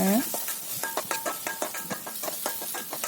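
Steady sizzling of oil with repeated scraping strokes of a spoon stirring in a pan while sautéing for egg curry, close and rhythmic, no voices.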